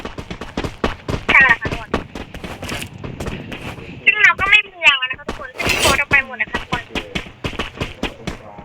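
Maxi, a mid-range gun in an online shooter game, fires in sharp bursts and single cracks through a busy match, with other game sounds around it and someone talking over much of it.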